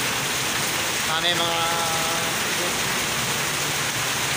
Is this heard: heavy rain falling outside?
yes